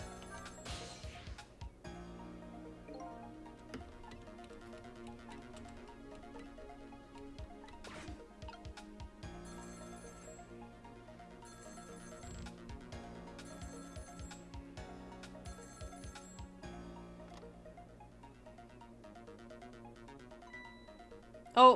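A telephone rings in the video game Ghost Trick, repeated electronic ring bursts over quiet game music and sound effects, with a sharp clatter at the very end.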